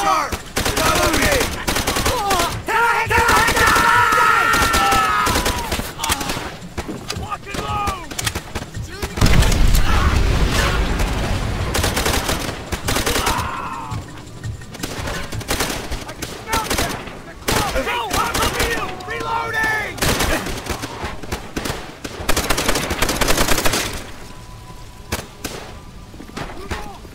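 Dense World War II-era battle at Shuri Castle, Okinawa, in World at War: bursts of rifle and machine-gun fire crackle almost continuously with booming impacts, while soldiers shout over the din.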